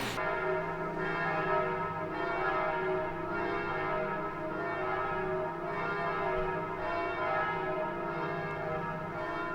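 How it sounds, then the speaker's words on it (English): Church bell in Hanoi ringing outside a window, a steady continuous peal of rich, overlapping tones that swell every couple of seconds, loud and close with no talking. "Like every day around 6 o'clock, we'll start to ring the bell, and it's like gonna last 2 minutes."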